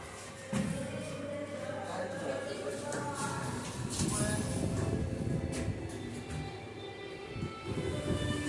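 A train pulling in at a railway platform in Bhubaneswar, with a continuous rumbling roll and clattering of wheels over rail joints that swells slightly, heard nearby beneath station bustle and people talking.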